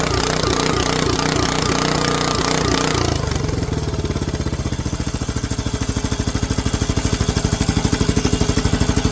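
A mini excavator engine fitted with a stainless exhaust runs hard at wide open throttle, then drops to a slower, heavy chugging idle, loud and close throughout.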